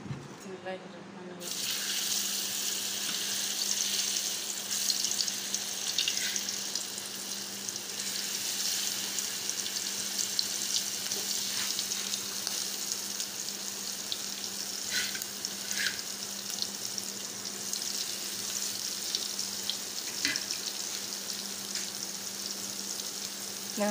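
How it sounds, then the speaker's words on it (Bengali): Large magur catfish frying in oil in a kadai, a loud continuous close-up sizzle and crackle with bursts of spattering that run steadily throughout, no voices. "তো মাছের গায়ে হলুদ হয়ে গেছে, এবার মাছটা ভেজে নিব"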